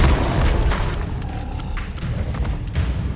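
The Incendio fire spell goes off in Hogwarts Legacy with a heavy, low whooshing boom that swells at once and then fades into a rumbling tail, with no speech over it.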